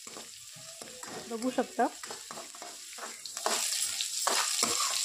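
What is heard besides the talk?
onion frying in a pan on full gas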